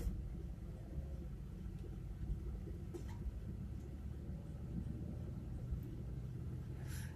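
A car engine pulls in low gear along winding Iron Mountain Road, a steady deep rumble with road noise heard from inside the cabin, fairly faint and unbroken throughout.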